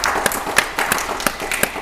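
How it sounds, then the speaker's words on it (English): Applause from a small audience on an antiques game show: a short burst of scattered, uneven hand claps, close and moderately loud, with no other sound. "Round of applause again for Richard"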